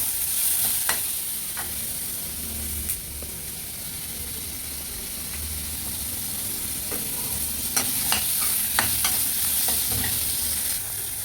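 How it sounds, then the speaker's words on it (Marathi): Ginger and garlic sizzle steadily in hot oil in a pan while being cooked for misal, with a continuous frying hiss and occasional sharp clicks of a spoon stirring against the pan. "आलं लसूणही आपण यामध्ये टाकून घेतलेलं आहे. त्यालाही छान फ्राय करून घेणार आहोत आपण."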